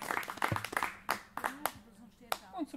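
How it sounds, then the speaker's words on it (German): Audience applause at a summer festival concert, a scattered burst of claps from the crowd mixed with talk, moderately close and fading in and out. "Gerne ein Applaus"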